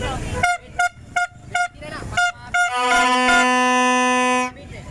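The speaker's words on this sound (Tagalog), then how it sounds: "parang busina ng tren" A loud vehicle horn that sounds like a train horn, heard roadside at a busy crossing in Calamba: six short rhythmic honks, then one long sustained blast of nearly two seconds that cuts off abruptly.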